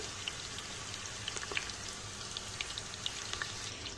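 Spinach frying in oil in a pan, a steady soft sizzle with scattered light crackles and pops running throughout, moderately quiet and close.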